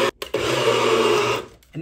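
NutriBullet blender whirring as it mixes chicken into flour, a loud steady motor buzz lasting just over a second after a brief start, then cutting off, with short pauses at either end.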